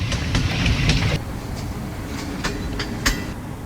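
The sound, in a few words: train arriving at Haripur Hazara railway station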